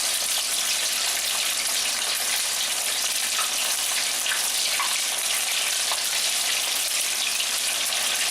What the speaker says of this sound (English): carefully we are going to put our crab meatballs into our oil to fry.